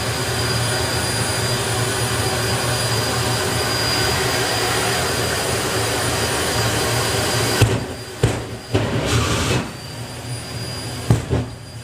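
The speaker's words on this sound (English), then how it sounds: "Turning up the jet. It's about to get a lot louder." A jet dragster's turbine roars at a drag racing event, a loud continuous broadband howl with whining tones that suddenly cuts off, leaving sharp pops and crackles as it spools down.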